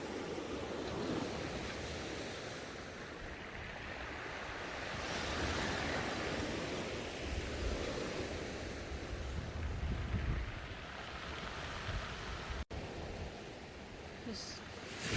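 Strong sea waves crash and surge onto a beach in Bohol, a broad continuous roar of surf that swells and recedes, with wind buffeting the microphone throughout.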